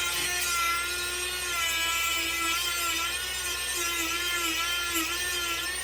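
A Dremel rotary tool cuts into a wooden dowel while it is rolled, giving a steady, close high-pitched whine with continuous grinding that holds level throughout, without pause.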